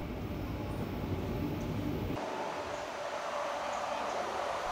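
A KTX high-speed train runs on a Korean line toward Busan, heard as a steady loud rushing rumble that abruptly drops to a quieter, smoother hum partway through.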